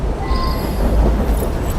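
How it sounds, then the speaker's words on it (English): A steady, loud rumble of a moving train inside a carriage in Assassin's Creed Syndicate, a continuous low roar with faint metallic whine and no talk. "Oh, well, it's a noisy train."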